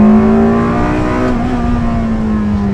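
A gated-manual Ferrari 360 Spider engine, which revs to an 8,500 RPM redline, holds a loud, steady, close drone that climbs slightly in pitch throughout, with no talking.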